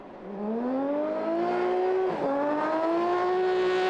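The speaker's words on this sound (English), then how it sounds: "There's the howl of the internal combustion engine from Jean-Baptiste Dubourg" A Trophy Andros internal combustion race car engine howls loudly and steadily, its pitch dipping briefly around a gear change before climbing again, with no voices over it.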